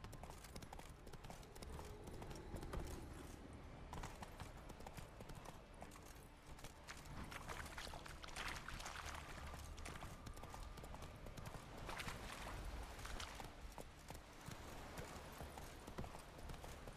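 A horse named in The Witcher 3 video game trots along with rhythmic clip-clop hoofbeats, continuous and fairly close, mixed with ambient game sound and no clear talk.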